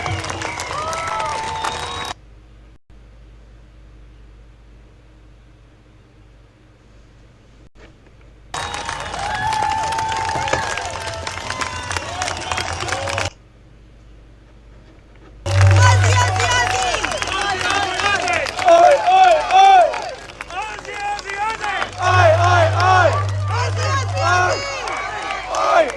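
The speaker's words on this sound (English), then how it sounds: "Put your hands together and don't stop clapping." A protest crowd at the 2022 Canberra convoy rally claps in long, dense bursts of loud, sustained applause, broken by a few near-silent gaps.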